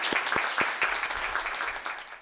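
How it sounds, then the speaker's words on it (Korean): An audience at a university anniversary ceremony gives a round of applause, steady dense clapping that carries on for a couple of seconds with no voices. "다시 한번 큰 박수 부탁드립니다."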